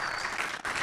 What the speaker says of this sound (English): So can I get a round of applause for Houston,